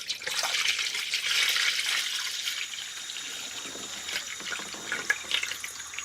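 Engine coolant pours steadily into the cooling system of a 1999 Acura RL, a continuous close splashing, trickling stream of liquid that holds fairly even for about six seconds with no talking.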